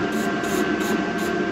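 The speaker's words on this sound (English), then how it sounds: "The cool of aerosol cans really helps." Aerosol can spraying in steady hissing bursts, about four pulses in quick rhythm, close and fairly loud, used while working on a boat on a hardstanding.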